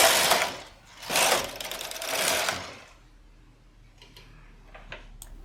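A standard-gauge knitting machine carriage pushed across the needle bed with bulky yarn gives two long, loud, whirring mechanical sweeps, then fades to a quieter stretch with light ticks and clicks.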